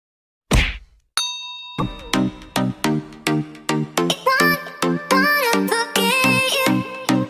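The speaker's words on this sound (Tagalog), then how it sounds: "Click the notification bell for more updates." A bright bell-like ding rings out after a soft whoosh, followed by a run of quick, rhythmic plucked and chiming musical notes.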